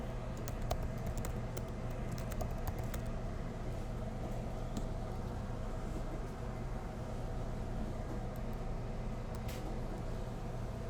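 Username and password being typed on a computer keyboard during an Ubuntu setup, with steady quiet key clicks over a constant low hum throughout.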